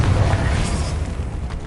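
Casting the Confringo spell in Hogwarts Legacy sets off a short, heavy explosive boom with a deep rumbling body that fades over a couple of seconds.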